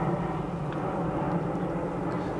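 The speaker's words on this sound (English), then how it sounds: "there's a plane going over now." An airplane passes overhead outside a Mercedes diagnostics workshop, a steady broad engine rumble and roar heard at moderate loudness with no talk over it.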